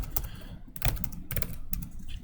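Computer keyboard typing during a Python programming class, with scattered key clicks and taps over a steady room hum, close and fairly soft, no talking.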